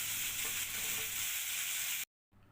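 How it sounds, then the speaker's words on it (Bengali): Potato pieces frying in oil for chow mein give a close, steady crackling sizzle that cuts out abruptly for a moment near the end, then resumes more faintly. "এখন আলু ভাজা করছি।"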